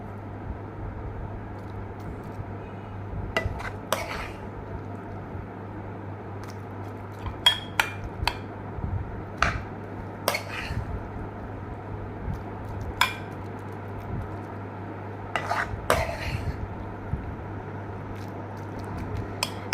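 Brinjal bharta spooned out of a pan into a serving dish, with scattered light clinks and scrapes of a spoon against metal and crockery over a quiet room hum, and no talking.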